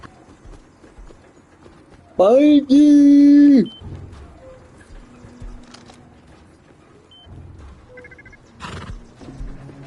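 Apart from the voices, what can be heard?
horse in a PlayStation video game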